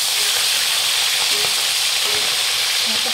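Two danggit fish fry in oil in a pan over a gas stove, giving a loud, steady hiss and sizzle with occasional small pops and crackles.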